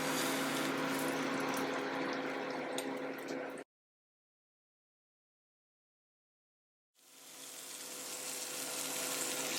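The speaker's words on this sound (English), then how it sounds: "Now I'm going to start adding the meat to the skillet." Beef short rib sizzles loudly in a hot oiled skillet, a dense steady hiss that cuts out completely for a few seconds before the frying noise returns.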